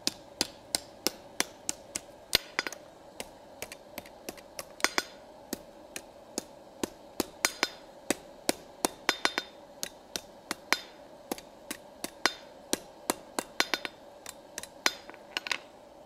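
A metal cup is struck with a hammer against a block set in an anvil, producing sharp, ringing blows repeated at a steady, brisk rhythm, close and clear, with no talking.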